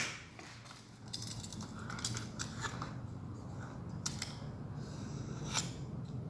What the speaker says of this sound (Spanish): Entonces voy a cortar para que me pise allá.